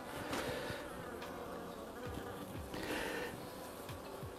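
Honeybees buzz steadily around a hive frame opened for a winter inspection in January, a dense, continuous hum close by with no voices over it.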